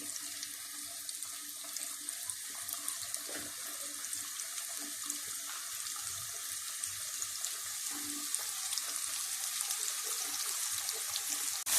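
Chicken wings sizzle and fry in hot oil, a steady, dense hiss with faint crackles throughout, close and uninterrupted, with no voices.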